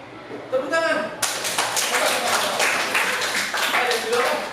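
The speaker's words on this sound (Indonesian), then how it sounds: "Tepuk tangan." Classroom applause for a student group: many hands clapping together in a dense, steady burst lasting several seconds, rising suddenly after a teacher's brief spoken prompt, with children's voices faintly mixed in.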